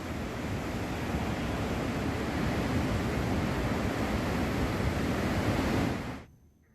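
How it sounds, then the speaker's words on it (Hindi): Torrent of water and debris rushing down a mountain waterfall, a flood that swept away a bridge: a loud, steady roaring wash that fills the scene without pause, then cuts off abruptly near the end. "झरना अपने साथ पानी का जलजला लेकर आ रहा है।"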